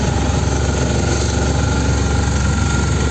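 A Force Minidoor truck engine runs steadily at idle, a loud, close, continuous mid-pitched rumble with vibration and no talking.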